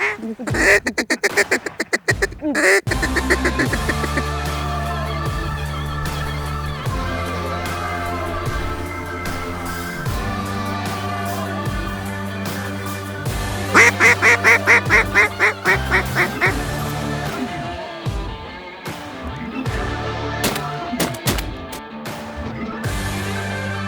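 Loud, rapid quacking of ducks rings out on a Mississippi Delta waterfowl hunt, running continuously in repeated bursts with a stretch of quicker calls midway.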